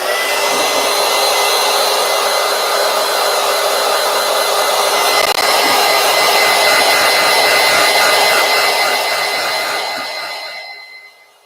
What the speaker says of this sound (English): let me get my heat tool plugged in.